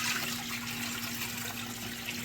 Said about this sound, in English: All right, we're going to cover our 6-pound birds with water.